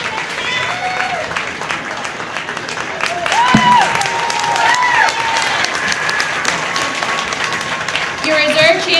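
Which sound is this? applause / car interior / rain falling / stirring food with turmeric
applause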